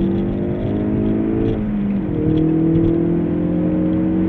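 A 2017 Ford Focus RS accelerates hard on a race track, its engine note climbing steadily, dipping briefly at a gear change, then rising again, loud and continuous close to the car.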